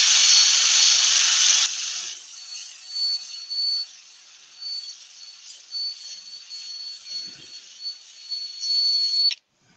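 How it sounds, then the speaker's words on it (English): A large spalted oak platter is sanded as it spins on a wood lathe: a loud rasping hiss for the first two seconds, then a thin, high whine that surges and fades before cutting off sharply. "this is sanding off quite quickly"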